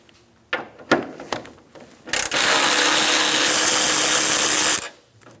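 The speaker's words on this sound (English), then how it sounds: "Remove the 3 bolts and remove that center support." A power tool runs in one sustained, loud burst of about two and a half seconds, removing bolts from the center support under the front of a 1988–1999 GMC K1500 pickup. A few sharp clanks and knocks come before it, and the sound cuts off cleanly.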